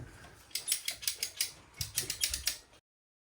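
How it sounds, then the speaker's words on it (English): A garage door is being installed on a storage shed, with about a dozen sharp ratcheting clicks coming in quick bursts at close range. The clicking then stops abruptly into silence. "We got Joe and Dave putting in the garage door."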